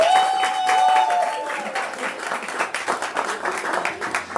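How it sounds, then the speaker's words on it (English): Applause from an audience at an evening volunteer award ceremony, a dense wash of clapping that holds steady throughout, with a brief tone near the start and faint voices mixed in. "Thank you for the great"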